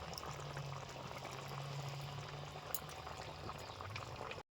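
Paneer gravy thickened with cornflour and cashew-raisin paste bubbles gently in a pan, a faint, continuous soft simmer with no voices.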